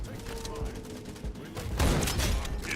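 Gunfire in the shooter game Wild Assault, with scattered shots and then a heavier burst of rapid fire near the end, mixed with game sounds and voices.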